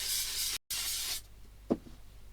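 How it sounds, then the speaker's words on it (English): Antique copper spray paint hisses from an aerosol can in two close bursts, separated by a brief pause, then stops, followed by a faint tap and quiet room tone. "so I'm just going to spray this one"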